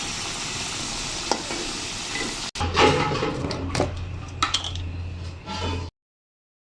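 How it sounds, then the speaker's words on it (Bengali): Potatoes frying in a pan for chicken biryani, a steady close sizzle with scraping stirs and a few clinks of a utensil, cutting off near the end. "আমি চুলার আঁচটা বাড়িয়ে লাল লাল করে ভেজে নিচ্ছি"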